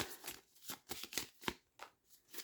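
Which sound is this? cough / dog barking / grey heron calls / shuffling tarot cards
shuffling tarot cards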